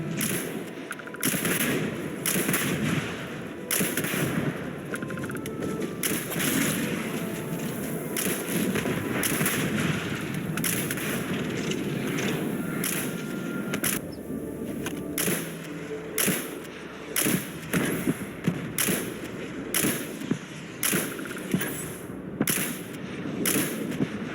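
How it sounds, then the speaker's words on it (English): Creatures blown apart in the sci-fi video game Starfield, a dense run of loud booming blasts and sharp cracks, repeated explosions layered over a steady rumbling game soundscape with no talking. "The place is populated by these weird dino looking creatures who are also very fun to explode."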